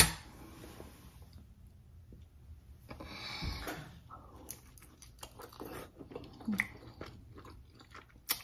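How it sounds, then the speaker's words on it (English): Biting into a cheese and veggie quesadilla with beans and green onions gives a close, crisp crunch followed by quiet, soft chewing and small clicks, with no talk. "Let's go ahead and get this first bite in."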